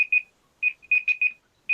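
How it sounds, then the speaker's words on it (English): An alarm ringing indoors during a book launch event, heard as short high electronic beeps in uneven bursts with brief gaps of silence, fairly clear and alone. "an alarm ringing somewhere"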